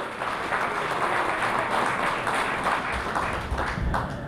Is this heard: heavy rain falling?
no